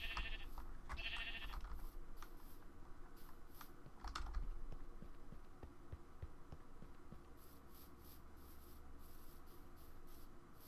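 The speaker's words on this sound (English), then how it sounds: "Please be quiet, sheep." Sheep bleating in the Minecraft video game, several short faint bleats scattered through the clip with keyboard typing clicks and quiet game ambience.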